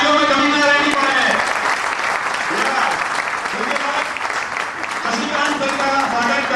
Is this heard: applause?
yes